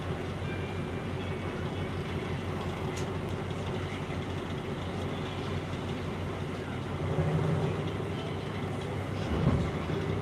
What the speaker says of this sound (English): this train is the third class